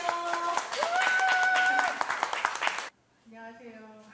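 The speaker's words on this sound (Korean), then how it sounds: "따뜻한 박수로 오늘의 주인공 경건 작가님을 무대로 모시겠습니다" At a book concert, the audience claps warmly to welcome an author to the stage while music plays beneath. The applause stops abruptly, then quiet music continues alone.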